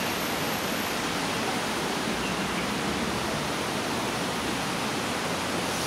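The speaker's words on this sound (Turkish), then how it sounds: "Yağmurda falan çok sular akınca dağlardan" Rainwater running down from the mountains gathers into a stream in a park in Hong Kong, giving a loud, constant rushing wash with no pauses and no talk.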